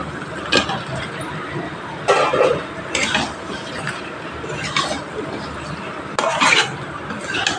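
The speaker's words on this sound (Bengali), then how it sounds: "এবার এখানে আমি মাংসটা দিয়ে আরও পাঁচ মিনিট মতো কষিয়ে নেব" Chicken pieces being stirred and sautéed with spices in a pan for a home-style spicy chicken curry, with repeated scraping and clinking of a spoon against the pan over a low sizzle.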